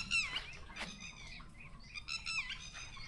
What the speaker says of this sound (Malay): Dengan bunyi-bunyi burung